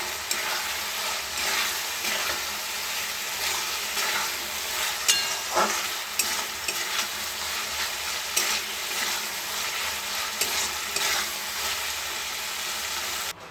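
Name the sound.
cauliflower frying and being stirred in a pan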